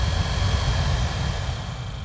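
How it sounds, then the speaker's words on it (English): Steady blower-motor whir from a 2018 Jeep Grand Cherokee's cabin fan running high, with a low rumbling rattle running continuously underneath at close range, fairly loud and without voices. "I still hear the rattle"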